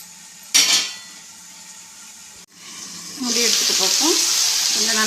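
Drumstick and brinjal pieces frying in oil for a spicy kara kuzhambu, a steady bright sizzle rising midway with a few stirring scrapes, close and fairly loud with no talk.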